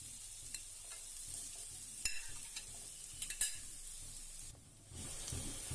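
Grated pumpkin frying in a spoonful of ghee while being stirred, for pumpkin sondesh: a steady close sizzle with scraping stirs and a few sharper clicks, no talking.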